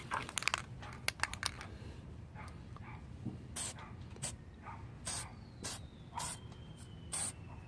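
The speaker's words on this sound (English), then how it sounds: "Copper spray to the rescue." Copper gasket spray hisses from an aerosol can onto engine parts of a GY6 scooter motor in several short bursts, quiet and close against a steady low background hum.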